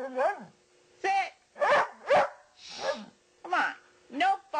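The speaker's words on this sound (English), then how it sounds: "Come on, no barking." A small dog barks and yips in short bursts, about seven sharp calls in a loose rhythm, near and fairly loud, with a little whining in between.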